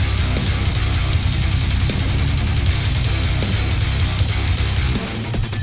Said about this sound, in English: And recent Doom music sounds like this.